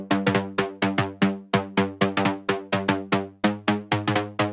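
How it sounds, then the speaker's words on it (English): A synthesizer saw pluck plays a repeating, busy pattern of short bright notes from a tech house drop, each decaying quickly, moderately loud and alone in a fast, driving rhythm. "And then we have this little saw pluck thingy."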